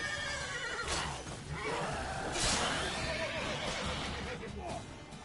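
A horse in The Witcher 3 game whinnies amid busy game audio, with a couple of rising neigh-like calls over a constant background bed and some voice-like sound mixed in.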